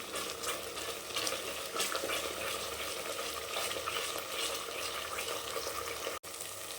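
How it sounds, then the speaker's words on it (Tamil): Egg curry gravy with home-ground chili powder being stirred in a pan, a steady close scraping and bubbling sizzle that continues unbroken with no talking. "நல்லா கலந்து விடுங்க."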